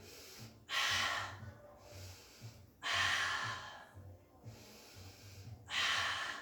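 A person breathes deeply during a Pilates mat exercise. Three long, audible breaths arrive at a slow, even pace, close and fairly soft, with quiet pauses between them.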